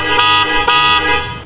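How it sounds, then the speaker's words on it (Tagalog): Horn on a 2014 Honda Jazz GE sounding in two short loud close blasts, the second followed by a longer held tone that fades out. "ngayon Bobby, may busina na to"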